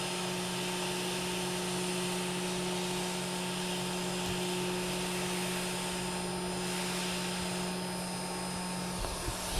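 A hot air rework station blows hot air onto electronics while a shield is being removed, producing a steady, loud, unbroken whooshing drone with a constant tonal hum.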